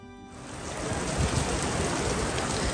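Steady rain falls outside a shop at Chatsworth House at Christmas, a dense, even hiss that swells slightly after the first moment and continues without voices.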